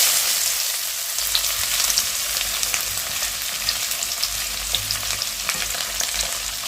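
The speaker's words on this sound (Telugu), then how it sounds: "అదే ఆయిల్లో సన్నగా తరిగి పెట్టుకున్న ఉల్లిపాయలు వేసుకుందాం." Thinly sliced onions fry in hot oil for an Andhra-style chicken fry, giving a steady, close crackling sizzle with faint stirring scrapes throughout and no talking.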